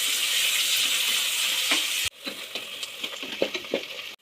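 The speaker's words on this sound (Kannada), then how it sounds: "ಈರುಳ್ಳಿ ಹಾಕಿ, ಈರುಳ್ಳಿ ಅಂತ ಗೋಲ್ಡನ್ ಬ್ರೌನ್ ಆಗೋವರೆಗೂ ಹುರ್ಕೊಳ್ಳಿ." Onions sizzle steadily in a hot pan for a tomato biryani, a dense close frying hiss that breaks off briefly and resumes with stirring scrapes and pops.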